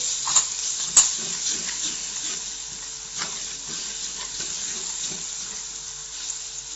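Beef frying in a pan with shallots, curry leaves and crushed ginger-garlic, stirred with a few sharp clicks of the spoon over a steady sizzle, close and moderate in level.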